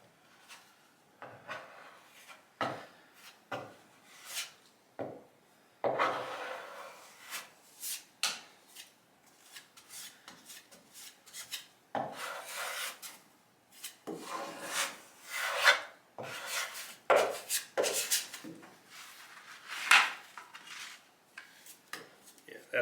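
Bondo body filler is spread with a scraper across crown molding for a coffered ceiling, giving repeated short rasping, scraping strokes in an irregular rhythm, close and fairly quiet, with no talk.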